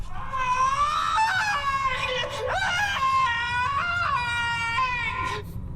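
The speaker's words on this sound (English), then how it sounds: "It's a great scream." Screaming from a classic Doctor Who episode of the Tom Baker era: a high, shrill voice wails and shrieks in several long, wavering bursts, loud and close.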